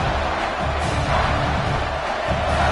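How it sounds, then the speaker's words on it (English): A college football stadium crowd roars as the defense holds in the red zone, a dense, continuous wash of distant cheering and noise that stays steady throughout. "And the crowd coming to life here, trying to help this defense down in the red zone."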